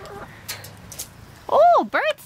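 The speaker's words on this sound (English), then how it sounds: "Look at all those chickens." Chickens call out in short, rising squawks near the end, with faint rustling and scattered background noise before them.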